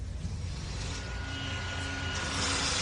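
Steady engine drone of a taxi used as a radio drama sound effect, a continuous broad rumble that holds level and swells slightly toward the end, with no talk over it.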